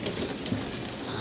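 Rain falls outside under a cloudy sky, a steady hissing patter of drops with a faint coo of a dove, brief and even, with no talking.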